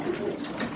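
Pet pigeons or doves cooing close by, a brief soft warble repeated low and steady with no talk.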